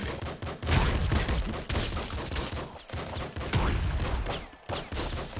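Dense rapid gunfire and blasts from the Nuclear Throne video game, a loud continuous barrage of shots and explosions with no voices over it.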